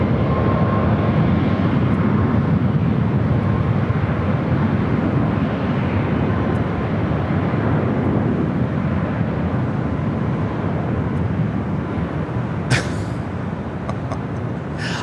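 Jet airliners at Los Angeles LAX airport roar in a steady, loud rumble that swells and slowly fades, heard from a hotel vantage point, with a few faint clicks near the end.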